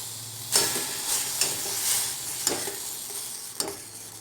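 Semolina stirred into boiling water in a pan, soft wet scraping strokes every second or so over a steady hiss, close and moderate, with no talking.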